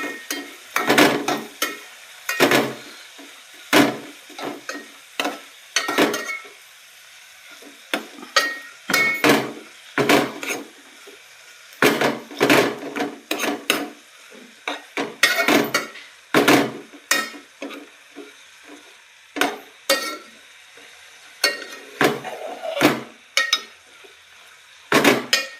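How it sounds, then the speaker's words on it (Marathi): Onions, tomatoes and capsicum fry in a pan, with repeated sharp clattering bursts of a spoon scraping and stirring against the metal over a steady background sizzle, close and fairly loud, with no voices. "आपण आता ह्याला चांगला तळून घेऊ"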